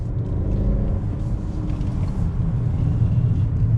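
A 2021 Honda Accord Touring pulls under throttle through a twisty corner, its engine giving a steady low drone and road rumble from inside the cabin, with no talking.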